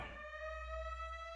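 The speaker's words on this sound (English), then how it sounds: "Sirens." A steady electronic siren tone from a Friday Night Funkin' mod game holds a sustained pitch with bright harmonics over a low hum, faint and continuous.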